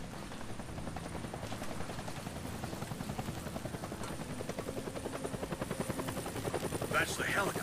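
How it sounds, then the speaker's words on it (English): Helicopter in the video game Deadlight, a steady rhythmic rotor chop that stays loud and close throughout, with a faint rising whine near the end. "That's the helicopter chasing my friends."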